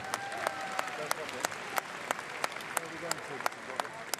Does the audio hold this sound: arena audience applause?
yes